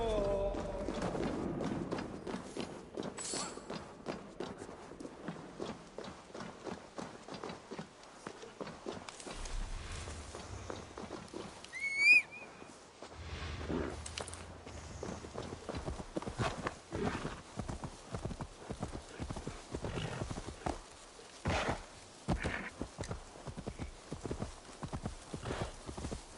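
Horse hooves clip-clopping at a trot and gallop in the Viking-era video game Assassin's Creed Valhalla, a steady close rhythm with a brief whinny midway and game ambience beneath.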